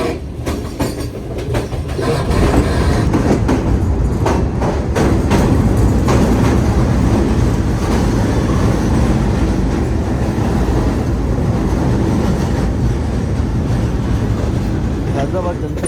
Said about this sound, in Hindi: हैदराबाद जंक्शन रेलवे स्टेशन के प्लेटफॉर्म नंबर 2 पर लग रही है इस वक्त हमारी ट्रेन।